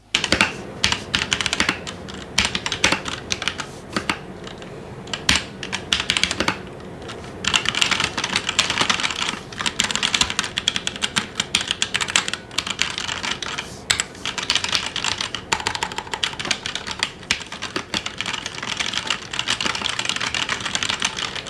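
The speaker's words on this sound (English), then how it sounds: "That's basically how this mechanical keyboard sounds like" Continuous fast typing on a CK721 mechanical keyboard with ABS keycaps, dense overlapping clacks close to the microphone with brief pauses, no voices.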